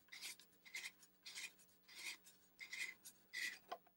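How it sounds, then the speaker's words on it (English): Threaded lens of an LED RGBW pinspot light being turned by hand: six or seven short, gritty rasping twists in a regular rhythm with brief pauses between them, close and fairly quiet, and no talk. "So you can take the lens here and rotate it"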